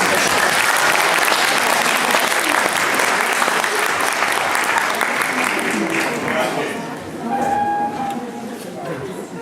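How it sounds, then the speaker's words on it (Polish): Audience applause after a teachers' performance at a Międzyzdroje lower secondary school, a loud, dense, sustained clapping that gradually thins toward the end as a voice begins speaking. "brawa"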